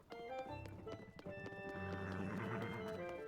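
Horse-drawn cart in Zelda: Tears of the Kingdom, with steady clip-clopping hooves and a brief whinny over game music, close and fairly loud throughout.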